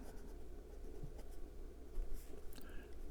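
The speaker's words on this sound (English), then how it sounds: "And we're back with the writing portion of the review." Nib of a 1948 Parker 51 Vacumatic fountain pen with a 14 karat gold fine nib moving across Clairefontaine 90 gsm paper, a soft, steady close-up scratching that runs continuously for a few seconds with faint low room hum beneath.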